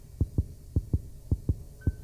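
Heartbeat effect in a horror video game, paired low thumps repeating at a steady slow rhythm, about four double beats under a soft hum, with no talking.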